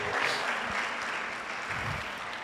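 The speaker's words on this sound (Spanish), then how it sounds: "Vamos a darle un aplauso a nuestra hermana." A church congregation in a Spanish-language service breaks into steady, loud applause that fills the whole stretch with dense, continuous hand clapping.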